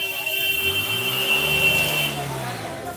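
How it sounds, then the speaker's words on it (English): A high, steady electronic tone sounds for about two seconds and then stops, while a voice hums or speaks underneath. "there goes the beeping"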